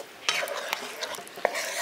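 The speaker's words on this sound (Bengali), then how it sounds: "এবার এটাকে ভালো করে একবার মিশিয়ে দিচ্ছি।" A spoon stirs Maggi Manchurian balls through sauce in a pan, with a few sharp scraping clinks against the metal over a soft background sizzle, fairly close and without speech.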